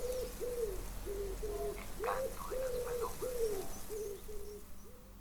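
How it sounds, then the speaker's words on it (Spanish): Doves coo in a steady run of about ten repeated, evenly spaced calls, clear and moderately close over a quiet outdoor background. "El canto de las palomas."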